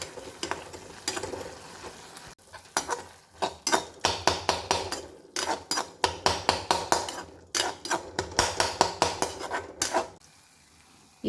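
Tomato masala for chana masala sautéing in a pan, a spatula scraping and knocking against the metal in quick repeated strokes, loud and close with brief pauses, no talking.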